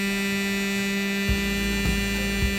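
Electric toothbrush running without its brush head, a steady loud buzzing vibration with a constant tone, briefly shifting a few times as it is handled.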